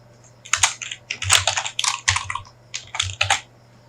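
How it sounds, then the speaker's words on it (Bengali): Fingers type text on a computer keyboard in quick, uneven clusters of crisp key clicks. The sound is close and fairly loud, with short pauses between bursts and no talking. "এখানে আমরা লিখব ইউটিউব কমিউনিটি পোস্ট"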